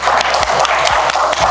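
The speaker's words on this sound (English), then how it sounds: "Can we give a clap?" Brief burst of audience applause at an entrepreneurial summit, close steady clapping with a few louder individual claps standing out.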